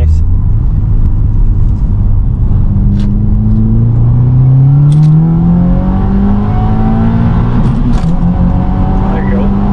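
A 2022 Subaru WRX pulls hard through its gears on a test run, the engine note climbing and dropping with each shift, loud from inside the car with voices talking over it.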